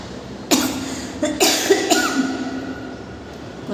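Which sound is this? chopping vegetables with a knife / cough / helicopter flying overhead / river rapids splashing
cough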